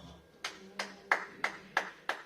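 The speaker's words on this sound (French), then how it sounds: "Oui, on peut applaudir le Seigneur." Congregation in a church service clapping in praise of the Lord, six sharp, evenly spaced claps in a steady rhythm, fairly close and clear with no voices over them.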